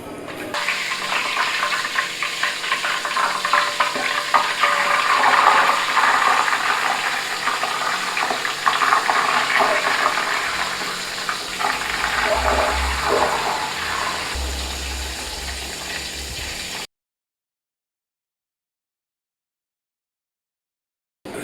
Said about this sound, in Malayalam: തിളച്ച എണ്ണയിലോട്ട് ഒഴിക്കുക.